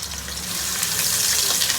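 Onions frying for chicken biryani give a steady, close hiss and sizzle throughout, with faint stirring beneath the continuous crackle and no voices.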